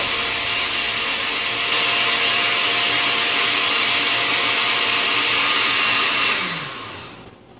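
A blender purees bananas in a steady, loud, continuous whir that holds for several seconds and then winds down as the motor stops.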